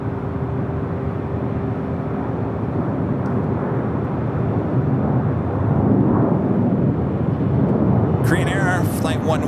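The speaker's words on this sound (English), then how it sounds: "Next arrival here on the north side, Delta Airlines flight 504, coming up from Orlando, Florida, A321 Neo" Delta Air Lines Airbus A321neo jet arriving at Los Angeles International Airport, a steady loud broadband engine roar that swells slightly toward the end, with a burst of higher-pitched noise near the close.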